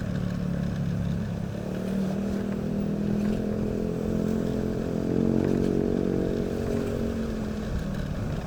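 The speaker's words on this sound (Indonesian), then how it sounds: "ini motor belakang knalpotnya agak gede suaranya" A motorcycle with a loud, large exhaust rides close behind on a road, its engine droning continuously and swelling slightly louder toward the end.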